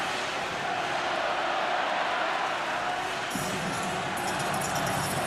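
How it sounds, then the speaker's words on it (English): A rowdy Canadian crowd cheers loudly at an Olympic ice hockey semifinal between Finland and Canada in 2026, a broad, steady roar filling the arena. "This has been the rowdiest Canadian crowd we've had so far in the tournament."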